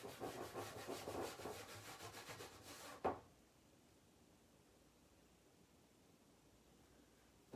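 Chalk paste is rubbed into a stencil by hand, with rapid rhythmic scrubbing strokes for about three seconds, ending in a sharp scrape, followed by near silence.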